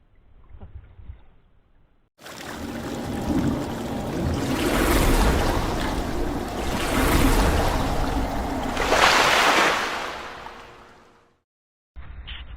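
Broadband wash of sea surf at night rolling in, swelling and receding in loud surges for about nine seconds, with quieter handling noise before and a sudden cut at the end.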